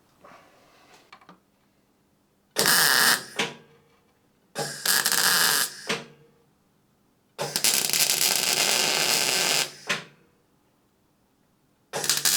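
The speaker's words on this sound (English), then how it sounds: "I'm going to just put some welds around the perimeter and in the holes also" Welding a rusty jacking point on a Citroen XM V6 24V: four loud, crackling bursts of arc welding, each lasting one to two seconds, separated by short quiet gaps with faint background rustle.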